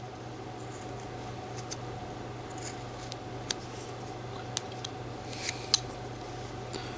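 Small whittling knife carving a miniature wooden hiker figure, making faint, sparse scraping cuts and light clicks over a constant low background hum, with no voices.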